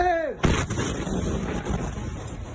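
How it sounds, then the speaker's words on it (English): A single massive blast from a ship full of fertilizer exploding at the dock in Beirut booms and roars after a brief rising whistle-like tone, then rumbles on with wind buffeting the microphone. "It shows the explosion that happened in Beirut when a ship full of fertilizer exploded at the dock there."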